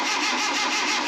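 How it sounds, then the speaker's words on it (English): A Datsun 510 rally car engine cranks for its first start after restoration, a loud, close, continuous starter whir and engine turnover lasting about a second. "we can do a first startup and see if we can make this run."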